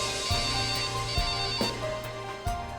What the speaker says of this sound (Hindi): सर आपका मोबाइल बज रहा है क्या?